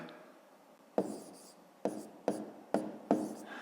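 A pen writes numbers by hand on paper during a fifth-grade maths exercise, five or six short, distinct scratching strokes spaced about half a second to a second apart, close and quiet.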